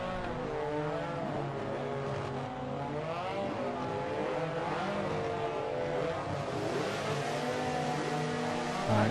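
Touring race cars revving on the starting grid at Watkins Glen in a racing video game, several engines droning and rising in overlapping pitch sweeps, steady and fairly loud throughout with no talk.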